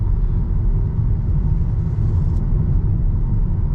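A 2022 VW Taos S drives through a corner on the road, its steady engine and tyre rumble loud and continuous with no talking.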